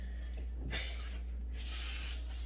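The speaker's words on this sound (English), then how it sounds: "Spray-O-Matic cooking oil. Keep this crap from sticking." Two short hissing bursts of Spray-O-Matic cooking oil from a roughly ten-year-old aerosol can, the second longer, close up over a steady low hum.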